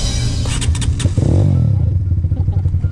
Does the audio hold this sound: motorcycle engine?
yes